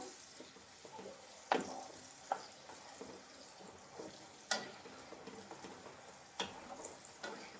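Masala eggplant frying in a pan under a faint sizzle, with a few light scrapes and taps of a spoon stirring at scattered moments, very quiet and close.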